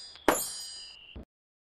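A single bright bell ding rings out for a notification bell icon, ringing and fading over about a second before a short final tap, clear and alone with no voices.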